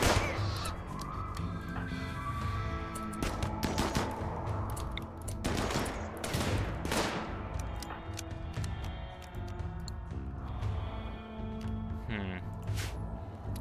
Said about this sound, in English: shoot this guy who's out in the open, please, before we get gunned down